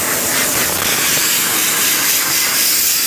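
Compressed air blasts steadily against a chiller condenser during cleaning, a loud continuous broadband hiss with a slight airy rush that holds for about three seconds without any talk.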